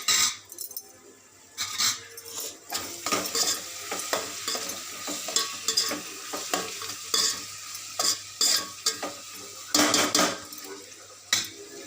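Rasam bubbles and sizzles in a pot on the stove while a spoon scrapes and clinks against the metal in short, uneven bursts.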